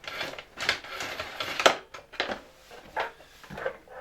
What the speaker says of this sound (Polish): No i zwijamy przewód.